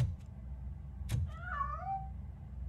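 A cat meows in the video game RoboCop Rogue City, one clear, drawn-out mew with a rising then falling pitch, heard over a low droning game background after a brief click.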